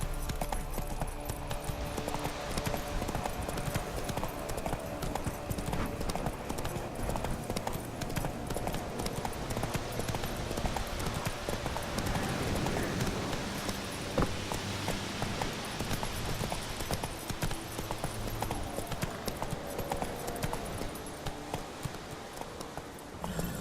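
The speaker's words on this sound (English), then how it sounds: "Run, Roach" In The Witcher 3, a horse gallops with steady, rapid hoofbeats that run throughout under continuous game background sound.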